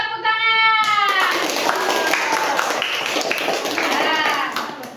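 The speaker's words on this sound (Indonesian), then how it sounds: "Mari kita tepuk tangan." A class applauds a group presentation with short bursts of clapping from several students, voices and chatter mixed in throughout.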